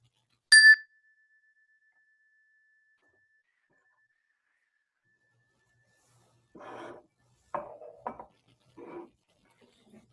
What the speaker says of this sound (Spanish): terminamos con el sonido de la campana.